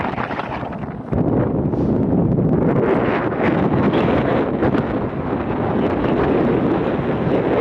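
Wind on a bitterly cold day in New York City buffets the microphone in a loud, continuous roaring rush that rises sharply after the first second and stays strong throughout.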